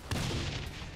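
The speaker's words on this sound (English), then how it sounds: "that grenade didn't go as far as I thought it would" A grenade detonates in Saints Row: The Third, a loud, dense low-end blast with rumbling debris that sustains for most of a second, close and unaccompanied by speech.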